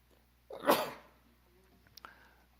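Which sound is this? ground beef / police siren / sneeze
sneeze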